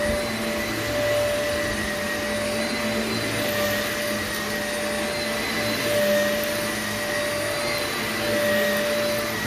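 A vacuum cleaner runs steadily and close by, a constant whining drone with no pauses and no voices.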